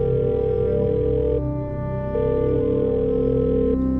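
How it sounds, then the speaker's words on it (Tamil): A telephone rings on the line with no answer, a steady electronic tone heard as caller-side ringback that pauses briefly and resumes, close and even in loudness. "நீண்ட நேரம் ரிங் ஆகி யாருமே எடுக்காம ஃபோன் கட்டாக"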